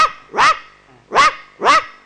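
A man on a comedy stage imitates a poor household's dog barking, giving three separate barks: one, a pause, then two closer together, loud and clear with no other sound.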